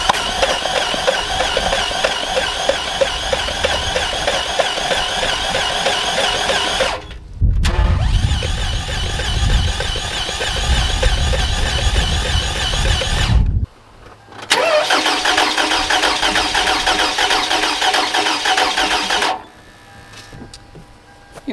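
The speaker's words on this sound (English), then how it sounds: "let's just get to cranking her up" A car engine with a fault and water in it cranks repeatedly in three long starter bursts, catching and running rough between them, loud and close with no talk.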